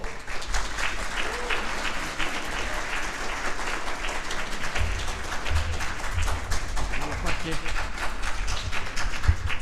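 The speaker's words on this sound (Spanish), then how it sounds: "Un aplauso, por favor." An audience at a book launch gives continuous, dense applause, a steady wash of many hands clapping with voices talking underneath.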